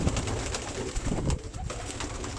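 Pigeons in a loft coo steadily, with soft, repeated throaty calls overlapping close by against a constant low murmur of the birds.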